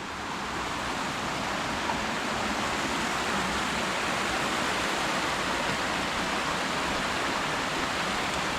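Creek water rushes steadily along a bush walking track in Tasmania's Overland Track wilderness, a continuous broadband wash of flowing water close by with no talk over it.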